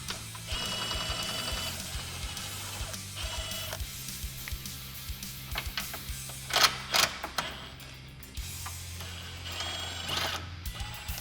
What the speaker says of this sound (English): now we're going to go ahead and remove the hardware from the side